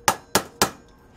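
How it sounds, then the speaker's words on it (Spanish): A hammer striking a flat screwdriver wedged into LG microwave parts to pry them open, three sharp metallic blows in quick even succession, close and loud, then silence. "Vamos a meterle aquí un desarmador plano y un martillo."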